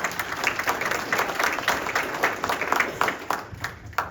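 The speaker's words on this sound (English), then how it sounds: "So you can give her a round of applause." Audience applause at a community conversation event with a commissioner, a moderate crowd clapping steadily throughout at medium loudness.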